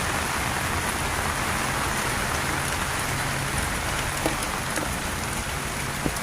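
Rain falls steadily on a garden, a dense, even patter of drops striking leaves and surfaces, with a few louder individual drips standing out.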